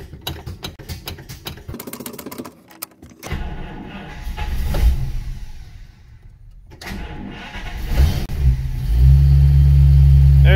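A car's engine cranks with a rapid rhythmic starter whir, falters briefly, then fires and settles into a loud, steady idle close to the microphone.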